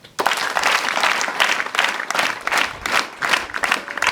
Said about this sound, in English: Let's clap for the priests who are here.